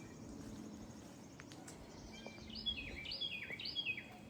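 Several birds chirp outdoors in a backyard garden, their faint high calls rising through the second half over a soft, steady background hush.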